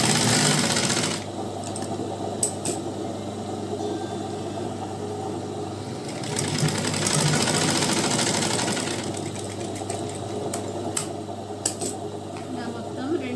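A sewing machine runs a double row of stitches along a skin-tight chudi pant, giving a steady mechanical whirr that swells and eases in passes, close and fairly loud.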